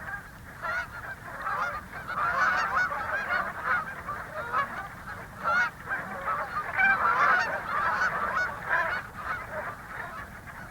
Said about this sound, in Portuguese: Estes encabeçam uma massiva afluência de aves migratórias, que vêm aqui para procriar.